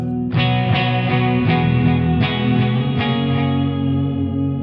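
Guitar chords played through a Keeley Parallax Spatial Generator with a subtle warble and reverb tail, sustained strums ringing with a gentle wavering shimmer, loud and close, no voices.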